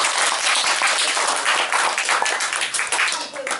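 Audience applause fills a classroom-style lecture, a dense, steady wash of many hands clapping at full volume throughout, tapering slightly at the very end.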